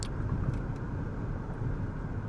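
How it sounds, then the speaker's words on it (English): From inside a soundproofed car in Vampire: The Masquerade – Coteries of New York, a low, muffled engine drone blends with faint traffic hum as one continuous, even rumble, with no talk. "While you can hear a bit of traffic humming, car's engine."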